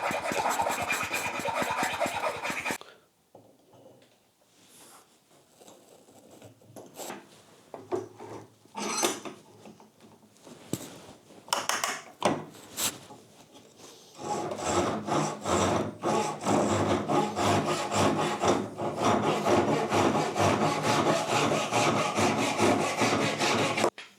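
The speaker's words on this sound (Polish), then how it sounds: "Teraz przy pomocy dłuta poprawmy sobie trochę nasz otwór." Hand chisel scraping and rasping at a drilled hole in a metal shaft or pipe, with steady rough rubbing strokes at the start and end and sparser scraping clicks between, close and fairly loud with no talk.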